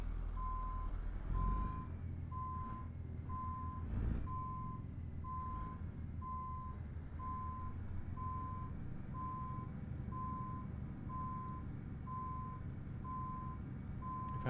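Steady, evenly spaced reversing beeps from a truck in Euro Truck Simulator 2 repeat over a low engine drone, with a few thumps early on.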